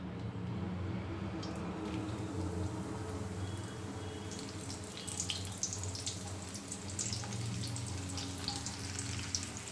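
Masala-coated peanuts fry slowly in hot oil, giving a continuous low bubbling sizzle with scattered crackles that grow busier midway, close and fairly quiet, with nobody talking.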